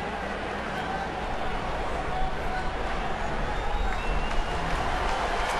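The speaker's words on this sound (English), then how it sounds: "So Leland now will get a standing O from the huge crowd in attendance here." Huge baseball crowd rising in a standing ovation at a ballpark, a broad sustained roar of cheering and clapping from a distance, with a commentator talking over it.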